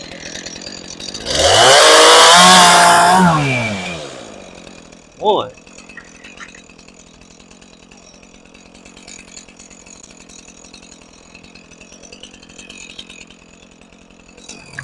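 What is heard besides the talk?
chainsaw cutting logs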